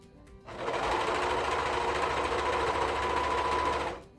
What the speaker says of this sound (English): I'm just going to show you how to do it when you serge it,